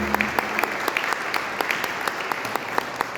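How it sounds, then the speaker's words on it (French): A church congregation at Sunday Mass applauding for the children, a steady room-filling round of clapping with distinct individual hand claps standing out, lasting throughout. "on va applaudir pour les enfants."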